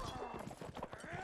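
Horse hooves clatter in a rapid, steady galloping rhythm during a strategy video game battle, mixed with battle noise and running under an excited commentator's continuous talk.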